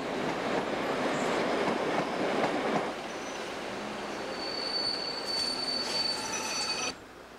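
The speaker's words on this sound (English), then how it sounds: "here comes a train of DMUs, Class 108" A Class 108 diesel multiple unit from around 1959, powered by two 150-horsepower Leyland diesels, rumbles past on British rails. A loud broadband roar drops away, then high wheel squeals ring out before cutting off.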